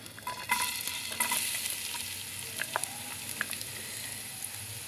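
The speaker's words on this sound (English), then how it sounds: "my oil is getting hot, so the next step, I'm going to add in some onions" Chopped onions going into hot oil in a pan for chips masala, a bright crackling sizzle with sharp pops and stirring clicks, close and fairly loud with no voices.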